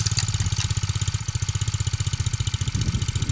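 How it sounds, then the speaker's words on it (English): A small propane-fuelled ice auger engine, never run since purchase, catches on the first pull and settles into a steady, close, loud idle with an even rapid chugging pulse. "First pull. I've never had an auger start on the first pull."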